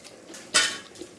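A crispy thattai, a fried Indian rice snack, bent until it snaps: one sharp, loud crack near the middle, with a fainter crunch after, close up and otherwise quiet.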